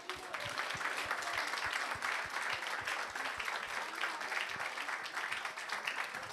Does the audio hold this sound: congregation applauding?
yes